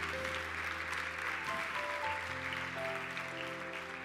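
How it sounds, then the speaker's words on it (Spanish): A church congregation applauds, a dense, sustained wash of clapping at moderate distance, mixed with sustained organ or keyboard tones that shift pitch through the clip. "Que lo crea, dele un aplauso al Señor."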